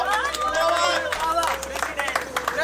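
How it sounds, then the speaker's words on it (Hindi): An audience claps at an outdoor ghat poetry gathering in Varanasi, a short round of applause mixed with crowd chatter and voices talking over it. "एक बार ताली हो जाए"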